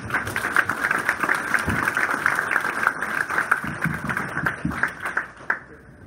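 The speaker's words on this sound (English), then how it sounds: "One more round of applause for Ms." An audience at the 2018 Wall of Pride induction ceremony claps for inductee Susan DeMuth, a fairly loud, steady round of applause that fades near the end.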